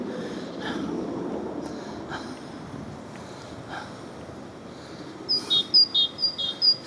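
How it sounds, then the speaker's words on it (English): Birds tweet in short bursts, faint at first, then a louder run of quick, bright chirps near the end over a steady outdoor hiss of wind or water. "You can hear the birds tweeting."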